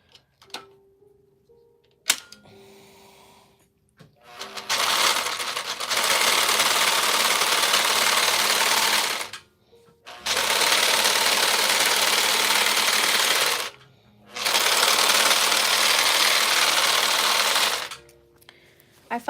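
A serger sewing machine stitches a knit t-shirt quilt in three long, fast, whirring runs with short pauses between them, preceded by a few soft clicks and handling noises, close and loud.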